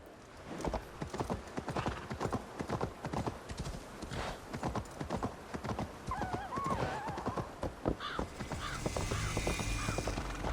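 Steady clip-clop of horse hooves at a walking pace in the video game Assassin's Creed Valhalla, with a horse neighing partway through and faint bird caws in the background.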